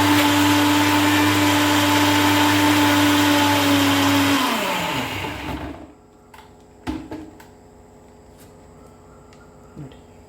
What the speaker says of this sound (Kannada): ಇದನ್ನು ನೈಸಾಗಿ ರುಬ್ಕೊಳ್ಳೋಣ.